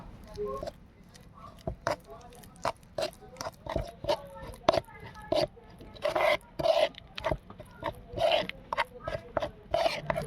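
Fish marinade ingredients for parshe paturi, with a little water, worked together by hand: repeated wet squelching and rubbing strokes in an uneven rhythm, close and fairly loud, with no talking.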